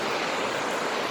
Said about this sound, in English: It's a triple waterfall.